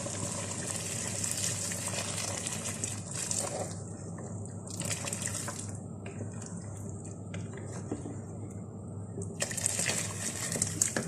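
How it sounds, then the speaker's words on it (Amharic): Boiling water pours into a pot of Saudi-style brown rice and chicken, a steady close gush and splash that runs for several seconds with brief lulls, no voices. "ስለዚህ የፈላ ውሃ ጨምራለሁ ማለት ነው።"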